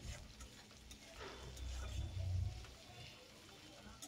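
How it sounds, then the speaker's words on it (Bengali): Chopped onion, crushed garlic and green chili frying together in a pan for a taro mash: a soft, low sizzle with scraping stir strokes that swell briefly, fairly quiet overall. "পেঁয়াজ, রসুন, কাঁচা লঙ্কাটাকে এরপর একসাথে ভাজতে থাকবো।"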